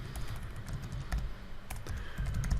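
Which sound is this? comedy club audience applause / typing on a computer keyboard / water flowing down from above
typing on a computer keyboard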